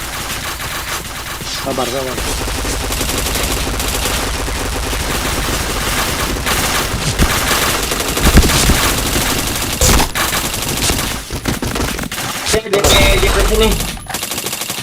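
Machine gun bursts and rapid gunfire ring out continuously through a shooter video game match, loud and dense, with players' voices calling out briefly over the shooting.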